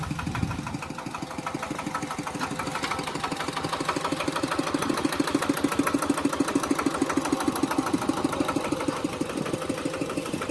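A steady mid-pitched tractor engine idles continuously with a fast, even chugging pulse, running alone at constant loudness throughout.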